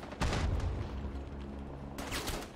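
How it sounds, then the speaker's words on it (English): Gunfire crackles through a Rising Storm 2 Vietnam battle, a dense, loud burst of shots and blasts that rolls on for a couple of seconds, then swells again near the end. "Who the fuck is shooting?"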